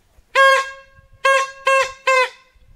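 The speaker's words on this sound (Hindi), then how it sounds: "आप भी कुछ इस तरह के जुगाड़ की सहायता से अपने लिए हॉर्न बना सकते हैं" A homemade pressure horn built from a kids' toy blasts four loud, honking toots, one longer blast followed by three short ones in quick succession, clear and close with quiet between.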